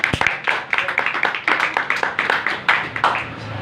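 A small group claps in quick, fairly even rhythm for a few seconds, close and lively, with no talking.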